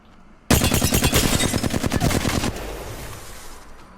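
Rapid full-auto burst from a Flatline assault rifle in Apex Legends, about two seconds of tightly spaced loud shots that cut off abruptly and leave a fading echo tail, no voices.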